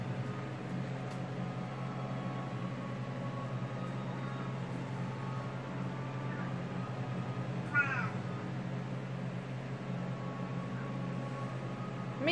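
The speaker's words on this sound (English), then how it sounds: "My cat is meowing." An older cat that is going blind gives a single faint, strained meow at a distance, with a possible second brief sound at the very end, against a steady low indoor hum and otherwise quiet room.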